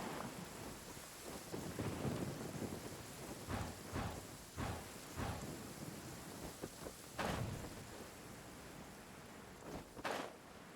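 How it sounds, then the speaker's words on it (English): Thunder rumbles and cracks through a video game thunderstorm, repeated broadband bursts rising over a steady wash of rain, some close and loud, others rolling lower, with no voices. "The thunder drowns out all other sounds, hampering my perception of the surrounding environment."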